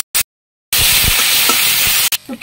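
Onion, nigella, radhuni and bay leaf fry in hot oil for a bottle gourd curry with small fish: a loud, close sizzle with stirring knocks, cut by abrupt silences at the start and end.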